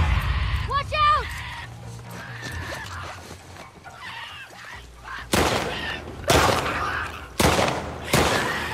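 Gunfire in The Last of Us Part II, four sharp loud shots spaced about a second apart near the end, with people talking over earlier game sounds.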